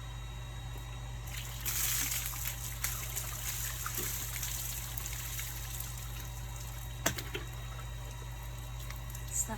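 Well water poured out for bathing on a farm, a steady trickling splash that swells into a louder gush, continuous and close, with low background hum.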